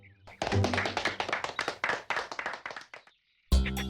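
Cartoon characters clap in a rapid run of sharp, close hand claps for about two and a half seconds, then a brief silence before a loud burst of music or voice cuts in.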